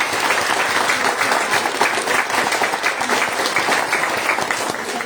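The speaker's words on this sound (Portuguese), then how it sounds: "uma salva de palmas aí para o Ricardo" An audience at a Spiritist lecture claps for a man named Ricardo, with brisk, even applause from many people held at a steady level for around five seconds.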